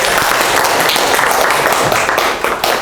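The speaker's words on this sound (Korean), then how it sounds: "박수 한번 주시죠" A crowd at a leadership training course claps loudly and continuously, dense applause filling the whole moment without pause.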